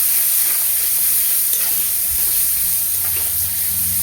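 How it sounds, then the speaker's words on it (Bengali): Chicken fries lightly in a pan with a steady, close hiss and sizzle, broken now and then by faint stirring scrapes, with no voices. "হালকা করে ভেজে নিতে হবে।"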